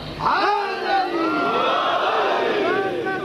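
A packed crowd at a Shia majlis, hands raised, shouting a religious slogan in unison: a loud, echoing chorus of many voices surging and holding for a few seconds in a reverberant hall.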